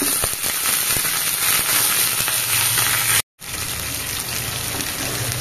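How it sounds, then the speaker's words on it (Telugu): Ginger paste hits well-heated oil and fries with a loud, continuous crackling sizzle, close up, broken by one brief instant of silence before carrying on. "ఆయిల్ బాగా హీట్ అయ్యాక అందులో కొద్దిగా అల్లం పేస్ట్ వేసుకొని"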